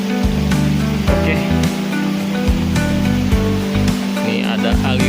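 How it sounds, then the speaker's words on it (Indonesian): A mountain river stream near a tea plantation in Gambung, Pangalengan, rushes in a steady, loud, broad wash of flowing water, with tonal sounds mixed through it. "Ini ada aliran air sungai, air pegunungan."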